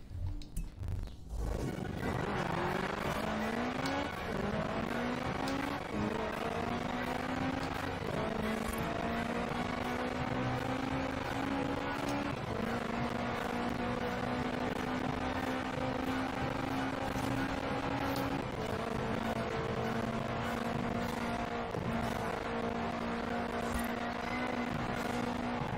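A Forza Horizon 4 car racing cross country through snow, its engine note climbing and falling through repeated gear shifts in a loud, continuous drone with a rough, gritty texture underneath.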